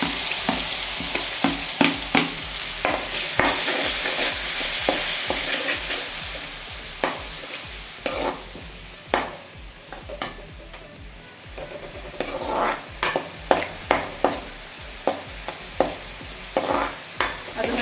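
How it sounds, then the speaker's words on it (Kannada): Green chillies and ground masala fry in oil for egg fried rice: a strong, near sizzle that settles into quieter frying, with repeated spatula taps and scrapes on the pan growing more frequent toward the end. No one speaks. "ಎಣ್ಣೆ ಕಾಯಿದ ಮೇಲೆ ಹಸಿಮೆಣಸಿನ್ಕಾಯಿ ಹಾಕ್ಕೊಳ್ತಾ ಇದ್ದೀನಿ ಇದನ್ನು ರುಬ್ಕೊಂಡಿರೋ ಮಸಾಲೆ ಹಾಕ್ತೀನಿ"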